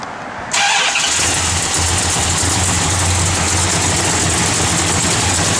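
A 1965 Plymouth Satellite with a lopey cam cranks and fires after a brief quiet start, then settles into a loud, close, loping idle with a steady lumpy rhythm.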